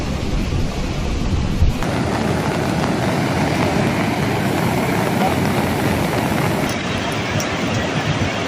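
Heavy rain pours in a dense, constant hiss across a Telangana district, with a low rumble of thunder and gusty wind noise underneath.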